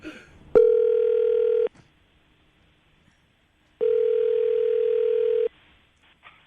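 A steady telephone ringback tone sounds twice, each a long, even buzz separated by a pause of silence.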